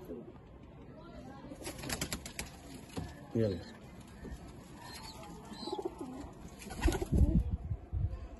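Pigeons coo softly in the background of a pigeon loft in Lahore while someone talks over them, with fluttering and clicking handling noises nearby.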